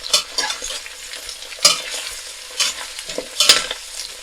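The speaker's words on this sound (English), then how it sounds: "And now I'm going to add in the cabbage. Stir it for a couple minutes." Napa cabbage stir-fried in a dry pan gives soft sizzling under repeated scraping strokes of a utensil, about five sharp stirs spaced through a few seconds, close and without speech.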